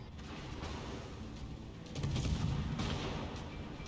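Ship main guns firing in the naval combat game World of Warships, aboard the destroyer Shiratsuyu in ranked battle: a steady rumble of battle noise, then a louder burst of booming shots near the two-second mark that swells and slowly fades.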